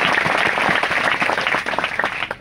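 An audience claps during a spoken address, producing dense, continuous applause from many hands that stays loud and close for the full couple of seconds.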